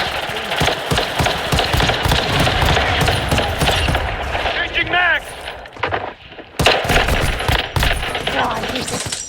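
BAS-B battle rifle fire in the mobile shooter Call of Duty Warzone Mobile, with loud, rapid bursts of sharp shots and other gunfire in a busy, dense battle mix.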